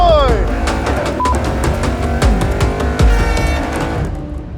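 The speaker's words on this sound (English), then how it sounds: "Jerry's getting in the car, he's doing some practice launches" A drag car's engine roars loud and close through a trans-brake practice launch, revving hard with tire chirps and mechanical whines rising and falling, while people talk over it.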